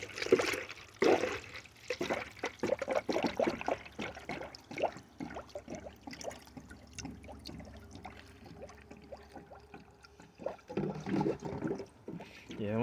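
Coolant glugs and trickles into a funnel on a 2010 Honda CR-V, a liquid pour that is loud at first and then fainter, while someone talks through much of it.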